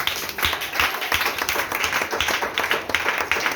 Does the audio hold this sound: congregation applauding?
yes